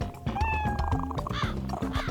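Several cats meow loudly and repeatedly, overlapping one another in a steady cluster of close, wavering calls with no talk over them.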